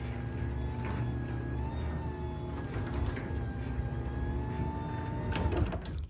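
A LiftMaster 8550/8360 garage door opener raising the door, a steady motorized hum and rumble with a tonal whine that runs continuously, ending in a few rattling clanks as the travel stops; close and moderately loud.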